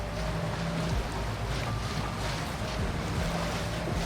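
A boat moves across a Scottish loch: a constant engine drone and rushing water and wake noise, with heavy wind buffeting the microphone, loud and steady throughout.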